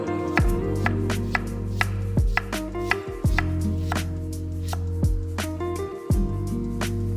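Knife chopping through potato slices on a board, about nine sharp, evenly spaced cuts, close and loud with no talking.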